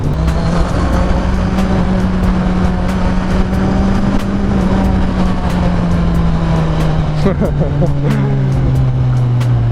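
A Kawasaki Ninja 1000 four-cylinder motorcycle engine runs loud and close with a smooth sustained drone whose pitch rises slightly then eases back, with a few sharp mechanical ticks and a brief throttle blip near the end.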